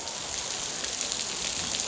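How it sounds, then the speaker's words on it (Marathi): Heavy monsoon rain falls steadily near a village school, a dense, even hiss that holds constant throughout with no one speaking. "पावसाने आज जाम मोठे हजेरी लावले, लय जोरात पडता सकाळपासून"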